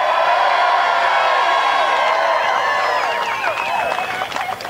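A large crowd roars and cheers continuously at an outdoor political rally in Marne, Michigan, on a fall day, with whoops and shouts rising over a dense, sustained wall of noise.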